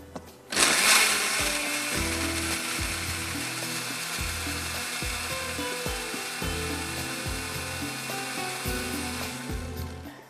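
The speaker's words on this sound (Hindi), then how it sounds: "इसको ग्राइंड करते हैं" A kitchen grinder grinding green chillies, its motor starting abruptly and then running loud and close for several seconds in a pulsing, whirring grind, ending with a short slowdown.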